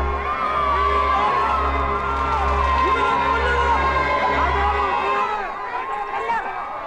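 A large crowd roars and cheers outside a palace, a loud, dense mass of voices and shouts surging continuously before easing slightly near the end.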